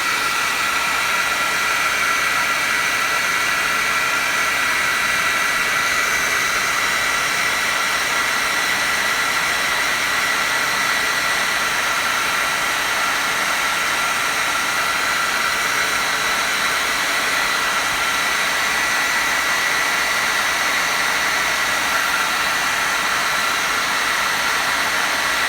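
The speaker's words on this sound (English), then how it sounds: "I prefer the blow dryer." A blow dryer runs continuously at close range while heating an action figure to loosen its parts, a steady loud airy roar with a faint high whine and no pauses.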